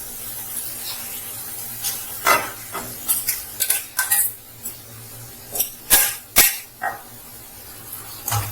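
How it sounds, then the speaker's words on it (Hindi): Peas go into a pan of cooking potato and vegetable curry and are stirred with a spoon, giving close, irregular bursts of scraping and clinking against the metal with a soft sizzle underneath. "अब हम इसमें डालेंगे अपनी ये कुछ मटर"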